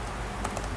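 Keys on a computer keyboard tap a couple of times, light quick clicks in a short burst over a steady background hiss.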